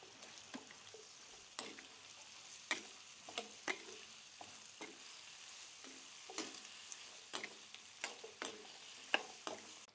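Dried fish frying in a pan with garlic and onion, a steady sizzle broken by frequent sharp clicks and scrapes of stirring, close and moderately loud with no talking.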